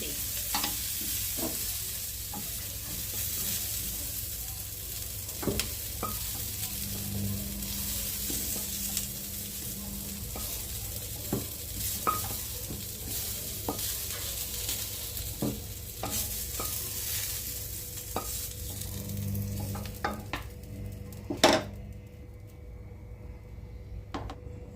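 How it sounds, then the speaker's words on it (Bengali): Cauliflower and potatoes fry together in a wok with oil, a steady low sizzle broken by frequent scraping stirs and clinks of the spoon, with no voices. "ফুলকপি আর আলু একসাথে ভাজতে দিয়ে দিচ্ছি।"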